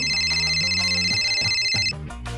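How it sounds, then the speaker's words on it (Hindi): A mobile phone rings with a bright, tonal melodic ringtone, loud and close, playing steadily for about two seconds before cutting off into quieter room sound. "ये देख गधेरा का फोन आ गया।"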